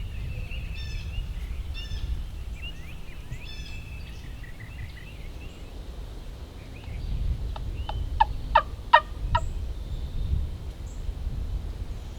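A wild turkey gobbles from a tree across a flooded field during a hunt. Two bouts of gobbles are heard, the first soft and distant, the second a louder rapid series, over quiet outdoor background.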